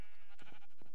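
A single sheep bleats in the Minecraft Pixelmon modpack game, one short wavering cry heard close and alone.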